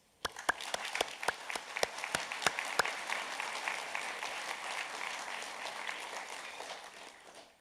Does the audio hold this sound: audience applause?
yes